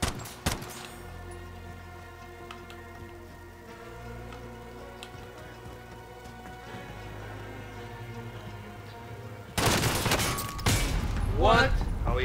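Video game shootout gunfire, with a shield popped and a marksman rifle in play: a loud burst of shots and impacts erupts near the end, following a long stretch of steady tonal game ambience.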